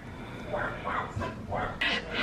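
Several dogs barking at a home, repeated yelping barks in a rapid irregular series, moderately close and fairly loud, with a brief higher yip near the end.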